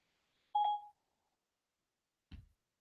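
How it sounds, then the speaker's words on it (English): A smartphone's Siri voice assistant activating gives a single short, clean electronic beep, followed after a pause by a soft low thump, with no talking. "I got to turn this Siri off on my phone. It comes on all the time when I'm talking."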